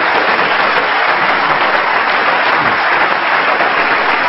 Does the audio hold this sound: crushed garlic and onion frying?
no